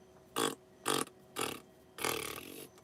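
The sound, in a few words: mouth imitating fart noises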